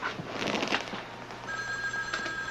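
Office telephone bell ringing in a newsroom scene from a 1970s TV drama, a clear electric ring against a low background hum, fairly close with no speech over it.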